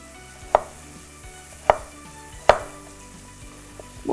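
A knife chops vegetables into thick julienne, batonnet-like strips on a board: three sharp, close strikes spaced about a second apart, with faint steady music underneath.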